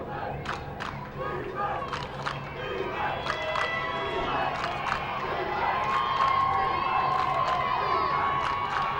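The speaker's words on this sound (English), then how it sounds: "Crowd making some noise" Spectators at a Texas Division II 7-on-7 football state championship final shout and cheer as a play begins, a sustained crowd roar with high yells rising above it and a commentator talking underneath.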